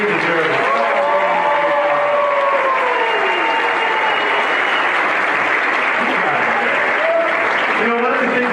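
Loud, dense applause from an audience at a district arts festival, continuous throughout, with voices talking over the clapping.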